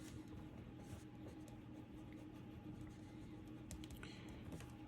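Quiet typing on a computer keyboard, soft clicking keystrokes tapping along steadily at a distance over a low background hum, with no talk.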